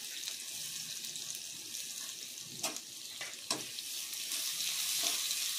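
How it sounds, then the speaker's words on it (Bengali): Spice paste frying in hot white oil gives a continuous bright sizzle, punctuated by a couple of sharp spoon scrapes and knocks against the pan, close and steady throughout. "তেল গরম হয়ে গেছে। এবার আমি পেস্ট করা মশলাটা এর মধ্যে দিয়ে দিচ্ছি।"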